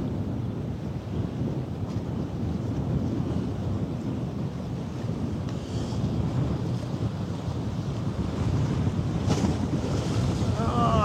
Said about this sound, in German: Jetzt kommt die Welle an.